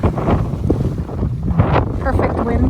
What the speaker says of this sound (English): Perfect wind finally.